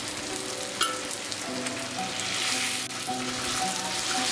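Drained taro greens being mixed into fried spice paste in a pan for a hilsa-head dish, crackling with a continuous close sizzle that swells midway, with a sharp clink of stirring, no talking.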